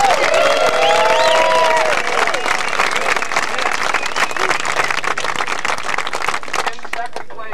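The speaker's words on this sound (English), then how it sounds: "Ladies and gentlemen, please give a big round of applause for Jesper Lundmark!" Audience applause and cheering at the 2000 PDGA Professional Disc Golf World Championships awards, loud and sustained with a few whoops and shouts at the start, then steady clapping that begins to taper off near the end.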